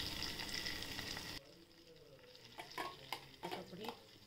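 Mustard seeds hit hot oil for a chutney tempering with a loud, dense sizzle that cuts off abruptly, followed by quieter crackling and a few spoon scrapes.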